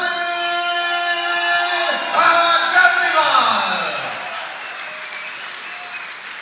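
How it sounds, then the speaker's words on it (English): A fight-night crowd claps and cheers for a local fighter, a dense burst of applause that swells briefly and then fades, mixed with a steady tone and overlapping commentator talk. "The crowd giving Massi a lot of local support here."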